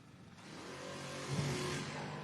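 A 1982 Capri and a 1986 Mustang race down a drag strip, their engines heard as a faint, distant roar that swells slightly in the middle of the run.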